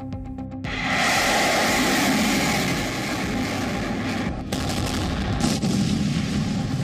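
Sustained bursts of gunfire and heavy rumbling from a Russian army attack on Ukraine roar loudly and continuously, with sharper cracks breaking through the dense noise.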